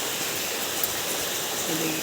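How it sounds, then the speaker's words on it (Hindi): Steady early-morning rain falls in a village, a continuous even hiss close by with no clear breaks. "और सुबह सुबह देखिए बारिश ऐसी शुरू हो गई है।"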